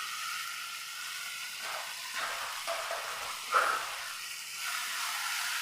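Meat masala being stirred into frying onions in a pan gives a steady, moderate sizzle and hiss, with a few soft scrapes and stirring bumps and no voices.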